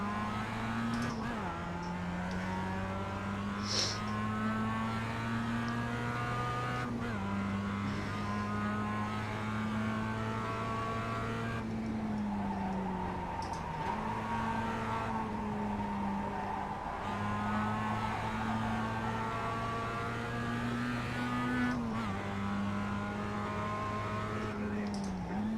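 Race car engine in the iRacing sim, droning steadily under load, with its pitch climbing and then dropping sharply at each gear change or lift off the throttle, plus faint tire noise, continuous and close for the whole stretch.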